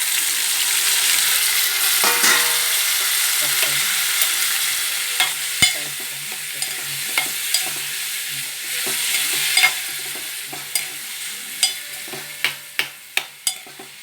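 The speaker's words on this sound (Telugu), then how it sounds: "దోసకాయ ముక్కలు కూడా వేసేస్తున్నాను" Cucumber pieces frying with tomato in a pan for a spicy curry, a steady broad sizzle with frequent sharp spoon clinks and scrapes against the pan, growing more rapid and pronounced toward the end.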